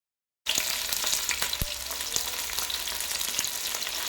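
Ginger, garlic, green chillies, shallots and curry leaves fry in hot coconut oil. A dense, close sizzle starts after a brief silence and keeps crackling, with occasional scraping clicks from stirring.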